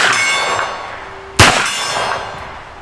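A steel gong target takes a hit from a CZ Scorpion EVO 3 at a shooting range, giving one sharp metallic clang that rings out over a sustained ringing tone and steady background noise.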